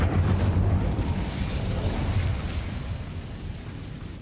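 The Incendio fire spell is cast in Hogwarts Legacy, giving a loud, rumbling burst of flame that surges at once and then slowly dies away.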